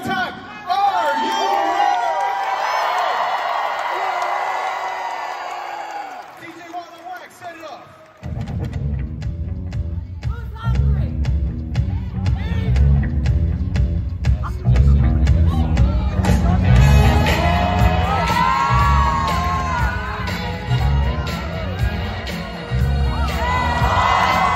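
A convention crowd at the AnthroCon 2024 floor war cheers, whoops and shouts in a large hall, loud and sustained with chaotic bursts, after an announcer's amplified voice at the start.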